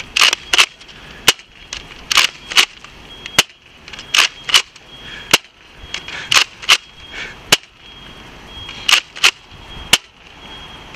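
A Nerf Rival Apollo blaster firing foam balls at a firing range, with sharp snapping shots in an irregular series of singles and quick pairs, close and loud over quiet background.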